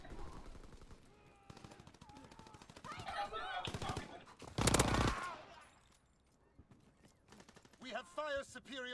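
Rapid bursts of M1928 Thompson submachine gun fire in the World War II shooter Call of Duty WW2, loud and close, with a voice speaking around the shots.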